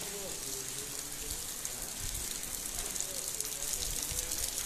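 Steady rain falls outdoors at the old Muktagacha zamindar house in Bangladesh, a continuous close hiss of drizzle with faint dripping that runs unbroken throughout.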